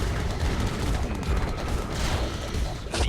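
Heavy cannon fire in the video game Red Alert 2: Yuri's Revenge booms in a dense, rumbling barrage, loud and continuous with no real pauses between shots.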